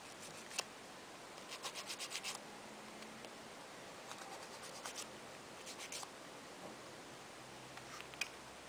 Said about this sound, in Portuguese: Agora vamos lixar.